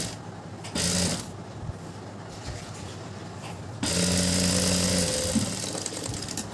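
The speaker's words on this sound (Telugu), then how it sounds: "దీన్ని చుట్టూ మడపెట్టి కుట్టుకుంటున్నాను" A sewing machine stitches around a folded trouser pocket in two close bursts of fast mechanical whirring and clicking, the second burst louder and longer, with no talking.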